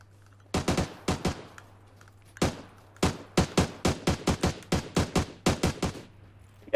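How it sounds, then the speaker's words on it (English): Gunfire in the battle-royale game PUBG: several crisp bursts of rapid shots in quick clusters, close and sharp with short gaps between volleys, alone over a faint low hum. "Getting shot at from the bullets"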